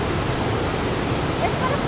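Floodwater in a Great Smoky Mountains creek at Greenbrier roars as a dense, continuous broadband rush, loud and close with no break.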